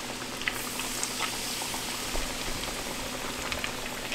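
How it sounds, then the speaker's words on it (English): Hot oil bubbles and crackles steadily, a dense close sizzle of fish deep frying in a deep fryer, with small pops scattered through and no speech. "Toss it over here in the fryer."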